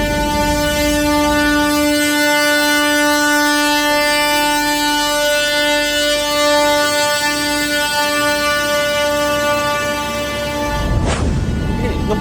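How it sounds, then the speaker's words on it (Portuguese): A long, steady horn blast with strong harmonic tones sounds loudly and continuously during a street procession, ending with a short burst of noise near the end. "Pode rodar bem. Pode rodar. E é buzinando. E buzina."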